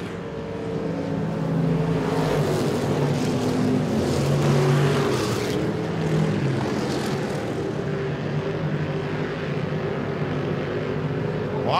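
Stock V8 race cars at Modoc Raceway roar down the front straightaway in a drag race to the flag, a loud, continuous engine drone that swells slightly and then holds, with no voices over it.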